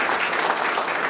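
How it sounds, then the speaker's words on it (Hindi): A room full of people at a meditation training centre program in Bilaspur claps for themselves in a brief, dense burst of applause that stays loud and even throughout. "ताली बजाइए अपने लिए।"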